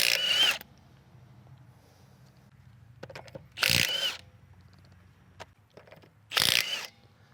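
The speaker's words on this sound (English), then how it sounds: "I'm gonna start by removing our wheel and tire" Lug nuts, 19mm, being removed from the rear wheel of a 2010–2014 Subaru Legacy/Outback: three short bursts of ratcheting, whirring tool noise separated by quiet pauses, close and fairly loud with no talk.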